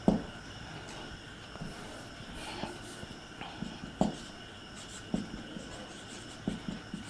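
Chalk or marker strokes on a classroom board as chemistry notes are written: faint scratchy taps and short scrapes at an irregular pace over a quiet room hum, with no speech.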